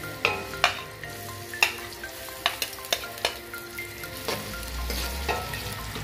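Onions frying in a cup of hot oil in a pan, a steady close sizzle with several sharp spoon taps and stirring knocks, no talking.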